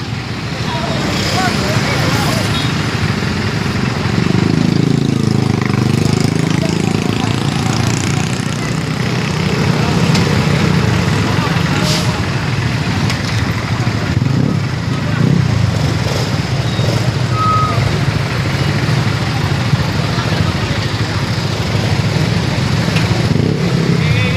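Road traffic with motorcycles and trucks idling makes a steady, loud low engine rumble, with occasional revs and passing vehicles, while people talk intermittently over it.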